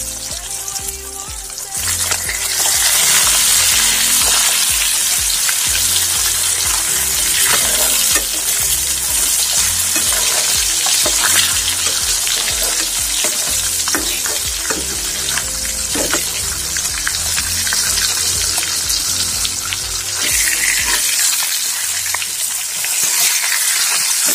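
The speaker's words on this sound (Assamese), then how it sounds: "মাছটো আজি টানকৈ ভাজিব চেষ্টা কৰিম" Spicy marinated fish fries in hot oil, a loud, continuous crackling sizzle that carries steadily throughout, with brief stirring or shifting noises and no talking.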